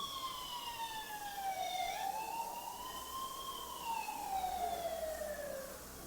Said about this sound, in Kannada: ಸೈರನ್ ಆಗ್ತಾಯಿದೆ ನೋಡಿ, ಇಲ್ಲಿ ಡಿಟೆಕ್ಟ್ ಆದರೂ ನೋಡಿ